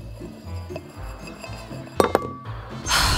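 A wine glass is set down into another glass, giving two sharp glassy clinks in quick succession over a low background hum, followed by a brief ringing tone.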